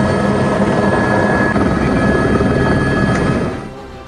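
A helicopter rescuing flood victims stranded on a rooftop, its rotor and engine drone loud and close, holding steady before easing off in the last half-second; no voices.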